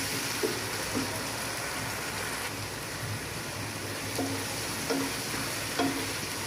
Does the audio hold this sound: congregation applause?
no